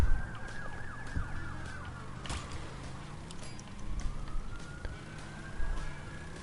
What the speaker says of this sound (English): Whenever a siren does come past here, it's normally a fire engine anyway